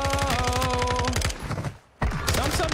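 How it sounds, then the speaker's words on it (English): Rapid bursts of machine gun fire in a video game, loud and close, a dense rattling stream that breaks off briefly before starting again. "Machine guns are so fucking weak."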